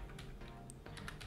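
Quick keystrokes on a computer keyboard while entering VBA code, a short burst of soft clicks close by with a steady low hum underneath.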